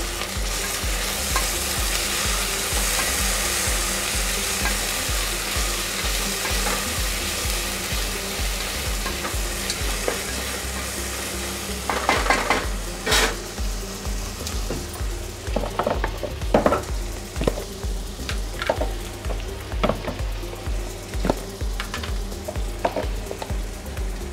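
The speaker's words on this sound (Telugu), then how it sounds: "ఒక 2 నిమిషాలు వేయించుకోవాలి." Ginger garlic paste fries in a pan for Bagara rice, giving a loud, continuous sizzle. In the second half, scraping and stirring strokes with a utensil come in irregular knocks, and nobody talks.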